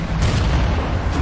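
Cannon fire on the streets of Paris in Assassin's Creed Unity, with heavy booming blasts that start sharply and then leave a dense rumbling roar. Two loud thumps stand out close together over the constant noise.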